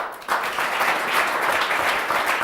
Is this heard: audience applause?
yes